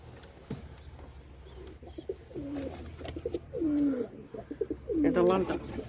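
Native pigeons coo in a coop, several soft rolling coos rising and falling one after another amid low background noise, fairly close and gentle.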